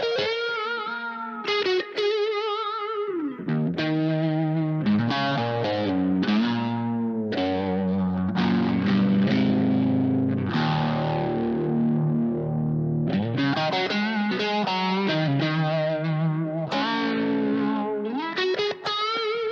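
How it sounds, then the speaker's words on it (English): An electric guitar runs through a phaser effect with some distortion, playing a continuous melodic passage of chords and single notes with a sweeping, swirling tone and no talking. "I'm going to add the phaser, just because I like phaser."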